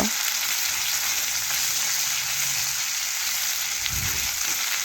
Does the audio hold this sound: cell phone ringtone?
no